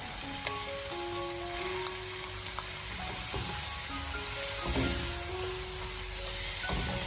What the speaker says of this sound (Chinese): 最后我们将青辣椒翻炒入味，给它炒出锅气以后就可以出锅了